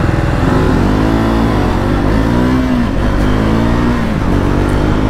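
Triumph Scrambler 400X motorcycle, a 400cc single, accelerating hard: a loud, close, continuous engine roar with rising pitch through successive gear changes, steady and unbroken throughout, with no talk over it.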